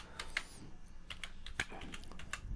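Quiet, close keystrokes clatter on a computer keyboard while a command prompt is being typed into, landing in irregular quick bursts over faint background hiss.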